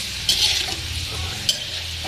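Meat for dinuguan sautéing in a pan, a soft steady sizzle with a couple of brief scraping stirs, close by and with no talking.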